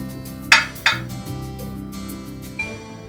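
A utensil stirs in a kitchen bowl, giving two sharp clinks early on and a softer clink later over a low steady background.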